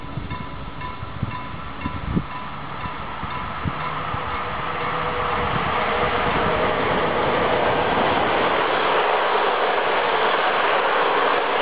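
A train rumbles past with a growing roar and rattling wheels, a few clanks early on, the noise swelling to a steady wash.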